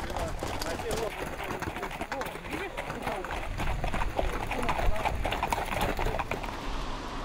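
Hooves of Cossack horses clip-clop steadily on a road during a march toward Paris, a busy continuous patter with people talking over it and some bird calls in the background.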